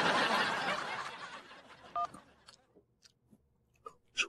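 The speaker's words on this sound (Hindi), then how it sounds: "रूसा को कॉल।" A phone being dialed: a few short, thin keypad tones spaced out after a rustling, crunchy stretch, quiet and close.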